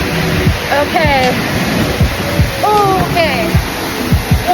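A waterfall on the Hetch Hetchy trail to Rancheria Falls in Yosemite rushes loudly and steadily, a dense roar close by, while people talk over it.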